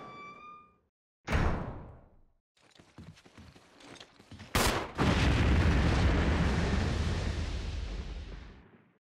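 Shooting in Resident Evil Remake: a sharp bang and mechanical clatter, then a louder blast that leaves a long, sustained roar of noise fading out at the end.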